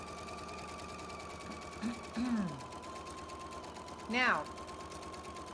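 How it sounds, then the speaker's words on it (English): A sewing machine stitches down a quilt block, its motor buzzing in a steady close rhythm throughout while someone talks briefly over it. "I'm going to go flip everything around and sew it down the other"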